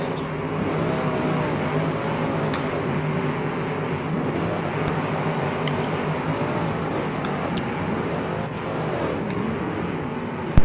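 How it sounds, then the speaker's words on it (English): Black Ford Crown Victoria with no steering racing at full throttle in a summer showdown event, a loud, steady, continuous engine roar held for the whole stretch with no letup. "Gannon Dean's giving that black Crown Vic all she's got with no steering. He's pedal to the metal"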